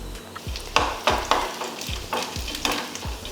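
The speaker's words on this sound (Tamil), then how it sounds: "எண்ணெய் காஞ்சதுமே கொஞ்சம் கடுகுளுந்து போட்டு கொஞ்சம் கடலைப்பருப்பு," Mustard seeds, urad dal and chana dal crackle in hot oil, a close steady sizzle broken by repeated sharp pops and spatters roughly every half second, with no voices.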